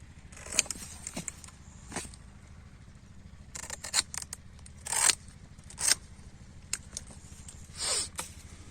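Extra date palm fronds and leaves are trimmed away in sparse, quiet snips and crackly cuts, spaced irregularly over a faint background with no talking.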